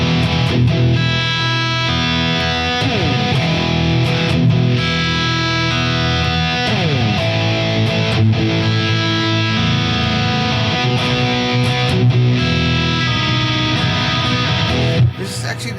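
Strummed rhythm guitar chords with a big, washy reverb tail, played continuously and loud with a few sharp chord changes.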